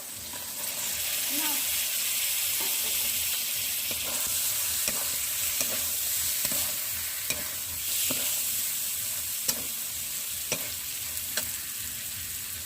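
Pre-fried chicken pieces sizzle and get stirred in a pan for a dhaba-style chicken egg tadka, with a steady frying hiss, intermittent scraping and clinking of the spoon, and short bursts of a voice underneath.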